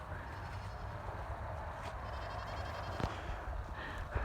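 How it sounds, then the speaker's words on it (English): Baby goats on a small farm bleating faintly in the distance over quiet outdoor background noise, a couple of brief thin calls and a soft thump near the end. "You can hear the baby goats."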